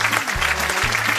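Lively audience applause for a human cannonball act at a festive music show, a loud, dense burst of many hands clapping, with a low held tone running underneath.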